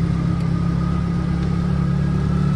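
An auto rickshaw engine laboring up a steep ghat road, a loud, steady droning hum with no change in pitch and no voices, heard from inside the vehicle.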